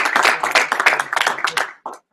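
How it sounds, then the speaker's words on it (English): Audience clapping at a training session, a dense burst of hand claps close by that runs for nearly two seconds, with a short final clap after a brief gap. "let's clap it up. Let's clap it up."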